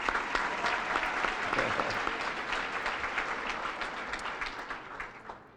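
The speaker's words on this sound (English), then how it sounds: "We can applaud for that." An audience at an awards event claps steadily for several seconds, a dense, fairly loud patter of many hands that eases slightly toward the end.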